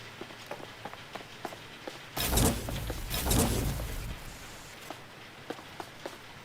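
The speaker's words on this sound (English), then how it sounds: "that's the sound of the rain hitting the air conditioner." Rain hits an air conditioner in Watch Dogs: Legion as a loud hissing patter that swells for about two seconds in the middle. Faint ticking taps sound before and after it.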